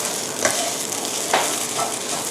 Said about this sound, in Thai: เราก็จะผัดแบบนี้นะคะ ให้กุ้งสุกนะครับก็จะเริ่มเปลี่ยนสีเป็นสีส้มนะคะ